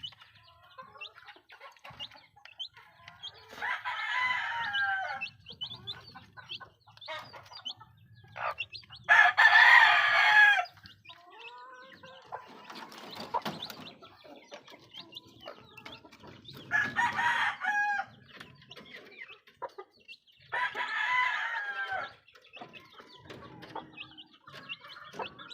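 Chickens cluck softly throughout a quiet coop while a rooster crows several times, the loud crows rising and falling in long bursts spaced a few seconds apart, with no talk.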